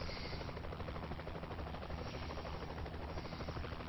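A helicopter in the game Saints Row: The Third thrums steadily, its rotor chop and turbine whine sustained and fairly close throughout with no talk.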